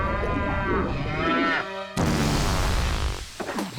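A loud, drawn-out cow moo with a rising and falling tone, followed by a second broad lowing call, heard alone without speech.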